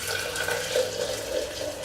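Water is poured into a French press over a sink, a steady close splashing stream running for the whole brief moment.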